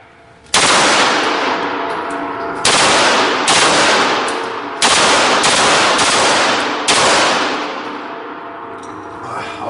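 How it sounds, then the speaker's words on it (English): A Glock 19 handgun modified to fire fully automatic lets off four loud, sustained bursts of rapid fire, each lasting about two seconds with brief gaps between, close and alone. "I've got the Glock 19 that has been modified to be fully automatic"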